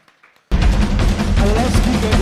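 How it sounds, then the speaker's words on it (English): After a brief quiet moment, a crowd at a money and business workshop bursts into loud applause that continues steadily. "A round of applause for Lethabo."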